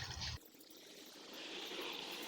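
Acetone wash tinted yellow by iron(III) chloride is poured off manganese metal, a brief soft splashing pour followed by a faint, steady trickle and dribble of liquid close by.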